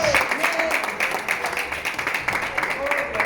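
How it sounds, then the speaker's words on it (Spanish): A church congregation applauds steadily throughout, dense clapping filling the space, with a few voices calling out beneath it. "Denle ofrenda de palmas y bienvenidos a nuestros hermanos."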